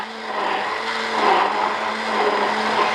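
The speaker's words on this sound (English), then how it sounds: "One of these Philips, this is a Philips blender." A Philips 700 watt blender whirs at high speed, mixing a homemade mass gainer shake, a loud, steady motor drone with a slight rise and fall as the contents churn, close by with no talk.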